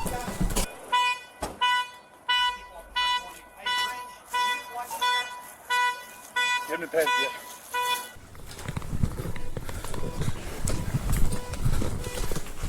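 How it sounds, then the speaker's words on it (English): A car repeatedly beeps in an evenly spaced series of short honks during a police response at a bank, followed by rushing noise and voices talking over the scene. "Is that my car beeping?"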